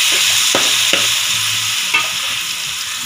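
Ripe banana pieces sauté in hot oil with a steady, close sizzle. A few distinct scrapes and taps from a spatula stirring the pan come through, and nobody speaks.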